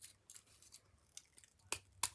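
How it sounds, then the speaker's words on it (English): Scissors snip a small piece of heavy foil-like material, heavier than thick tin foil. A series of close, crisp cutting clicks builds to two sharper snips near the end, with quiet between the cuts and no speech. "use my scissors to cut a"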